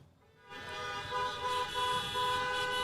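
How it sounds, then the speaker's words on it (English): Many car horns honk together in a parking lot in the greater Saco area, a dense, sustained blare that starts abruptly and carries on loud and overlapping. "Honk your horns if you're in the greater Saco area and you're here tonight"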